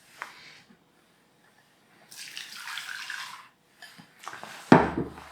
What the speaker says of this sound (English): put it back in the pan